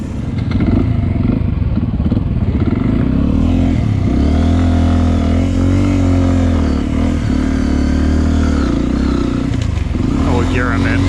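A Beta 125 two-stroke dirt bike roars continuously at high revs while being ridden, its buzzing engine loud and close with pitch rising and falling through gear changes, and a rider's voice talking over it.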